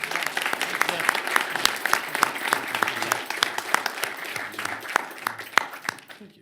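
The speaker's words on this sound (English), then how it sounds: "Give him a round of applause." Audience applause rings out in a Reno City Council chamber during a public meeting: a steady patter of hand claps with sharp individual claps standing out, moderately loud and sustained for several seconds.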